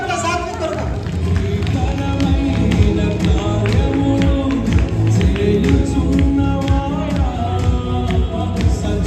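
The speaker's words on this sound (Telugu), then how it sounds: "చప్పట్ల సాత్విక్ కొరకు." Clapping from a village crowd for a young boy's dance performance at a children's gift distribution event, steady mixed applause lasting several seconds with someone speaking over it.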